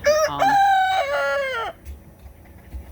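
A single loud rooster crow rises and holds before trailing off, close by, followed by quiet background noise.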